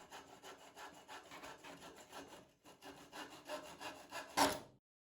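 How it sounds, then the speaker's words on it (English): Excess wood is sawn off the rails of a crosscut sled in quiet, rhythmic rasping strokes, with a brief pause midway and a sharper final stroke as the piece comes free. "I quickly cut the excess parts of the rails off of my sled"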